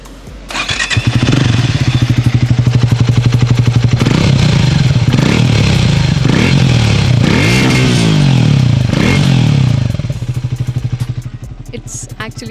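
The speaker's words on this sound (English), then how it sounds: "Speed T4 has got a new exhaust and I would really like you all to listen to the sound of this exhaust" Triumph Speed T4 motorcycle with a new exhaust fires up and idles close by, a loud throbbing single-cylinder-style thump with a couple of blips of the throttle before settling and fading slightly at the end.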